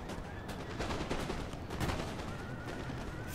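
Cannons fire shrapnel shot on a battlefield in Empire Total War, a dense, continuous rumble of overlapping booms and crackling blasts that swell around the middle, with no speech over it.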